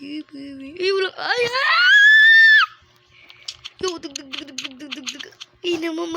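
A person screams during a Bedwars gaming session: one long, loud, rising, high-pitched shriek that cuts off abruptly, framed by excited vocal sounds before and after.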